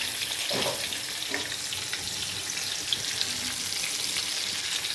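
Food frying in plenty of hot oil, a soft continuous sizzle with a few brief bubbling bursts, close and steady, no voices.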